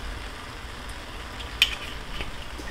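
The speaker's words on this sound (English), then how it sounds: "We're just gonna mix those peas and onions together." Peas and onions are stirred together in a pan with olive oil, giving a soft steady sizzle with light scraping and one brief clink of utensil on pan.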